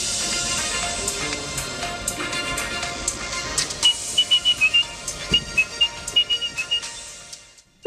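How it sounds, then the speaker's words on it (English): A person whistles the BBC London theme tune in short, distinct notes over a busy background, the tune growing clearer and more clipped toward the end. "I have a challenging tune for you to whistle."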